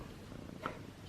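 A pet cat purrs softly in a home, a low, rhythmic rumble close by, with a brief small sound partway through.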